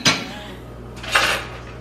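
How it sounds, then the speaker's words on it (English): Dishes being put away at home, with two distinct clattering clinks of crockery and cutlery close by, separated by a quiet moment. "I'm putting away a couple dishes right now, and then I'll stop making noise"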